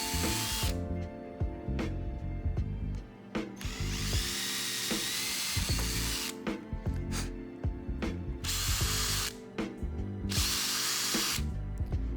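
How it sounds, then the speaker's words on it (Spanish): Power drill boring holes in a 4x4 centre console while fitting an accessory switch panel, heard as loud, close whirring bursts that start and stop repeatedly, with ratcheting and clicking mechanical sounds between runs. "Hacemos 2 agujeros más y simplemente la atornillamos con tornillos y tuercas."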